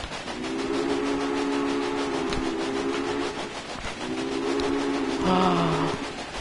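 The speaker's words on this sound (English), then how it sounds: "I can blow a whistle on a train." Steam train whistle in the video game Railway Empire, sounding in two long steady blasts over a continuous rolling rail background, followed by a shorter higher toot near the end.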